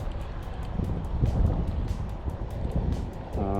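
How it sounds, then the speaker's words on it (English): Strong wind gusts roar across the microphone on a lake while bass fishing from a boat, rough rumbling buffets with faint water sounds, close and steady. "The wind is just rough"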